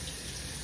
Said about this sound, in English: I'm just over here washing my griddle off